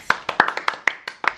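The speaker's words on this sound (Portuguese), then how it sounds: "Salve de palmas para o Thales." An audience claps for Thales: a short run of about eight sharp, evenly spaced claps, crisp and fairly close, with no talking over them.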